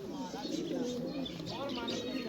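Pigeons cooing in a loft among a fancier's flock, including black birds with white eyes, a steady layer of low murmuring coos running throughout with faint chirps above.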